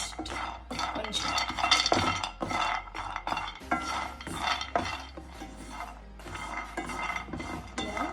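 Cashews and almonds being dry-roasted in a pan for nutrition laddu, stirred steadily with a metal spoon: continuous scraping, rattling and clinking of nuts against the pan, close and fairly loud with no talk.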